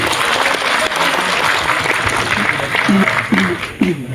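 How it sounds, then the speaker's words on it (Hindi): Sustained applause from a crowd at an Urdu poetry recital, dense clapping throughout, with a voice starting to speak over it near the end. "एक साथ मिलकर आप तमाम लोग तालियां बजाएं और उन्हें बुलाएं"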